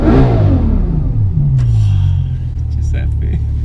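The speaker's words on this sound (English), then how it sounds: "I tell you what is smooth, this V12 engine." A Bugatti Chiron's V12 engine rumbles and revs with a smooth, rising then settling tone, close and loud, while faint sounds come through over it.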